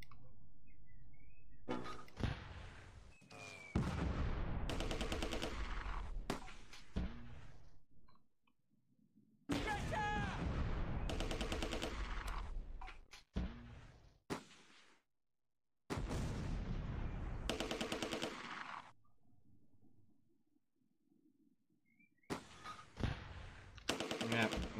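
In the Close Combat 2 war game, gunfire and mortar blasts arrive in loud bursts with short quiet gaps, shots and thumping explosions clustering in rapid volleys.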